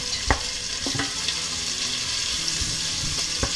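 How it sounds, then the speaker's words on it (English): Onions fry in already hot oil in a pot, making a close, continuous bright sizzle with a few soft knocks and stirring bumps, and no one speaks over it. "oil in the pot, which is already hot, and I'm going to add the onions."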